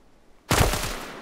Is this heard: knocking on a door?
no